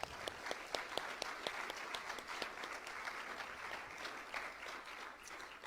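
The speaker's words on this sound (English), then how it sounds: "We can give a round of applause." An audience at a panel discussion claps in a faint round of applause, sharp scattered hand claps that thin out gradually, heard from a distance.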